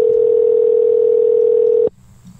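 A loud, steady telephone dial tone hums for about two seconds, then cuts off abruptly into near silence, with no voices heard.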